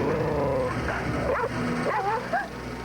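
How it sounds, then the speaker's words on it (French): Dogs let out short yips, whimpers and barks over a dense, busy background, with voices mixed in beneath them. "Les chiens sentent d'instinct les fantômes. Ils aboient après les fantômes."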